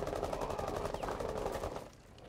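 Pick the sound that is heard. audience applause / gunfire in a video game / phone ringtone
gunfire in a video game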